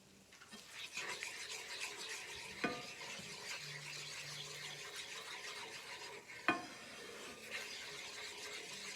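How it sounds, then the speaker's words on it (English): A spoon scrapes round and round a pot, stirring roux for seafood gumbo. The steady scraping comes with a soft sizzle, close but quiet, and two sharper knocks against the pot stand out. "You want to continuously to stir throughout."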